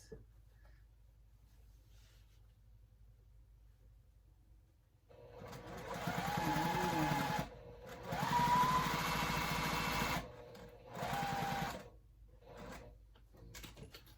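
A sewing machine stitches a garment in several bursts, each running a few seconds with short pauses between them as the fabric is pivoted, loud and close with no talk.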